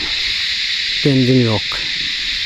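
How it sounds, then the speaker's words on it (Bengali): Crickets drone steadily and continuously near Tenzing Rock in Darjeeling, a high, even shrill behind a brief stretch of nearby talk. "আর এখানে দেখতে পাচ্ছ কত ঝিঝি পোকার ডাক"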